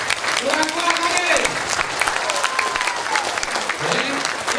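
A crowd at a Partai Demokrat rally in Bengkulu claps steadily and loudly with dense, continuous applause, while scattered voices and shouts rise over it at moments.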